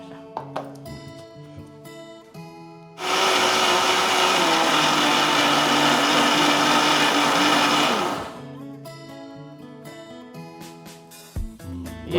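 A mixer grinder blending okra, green chilli, cumin and salt into a smooth paste runs at a loud, steady whir for about five seconds, with quieter kitchen clatter before it starts and after it stops.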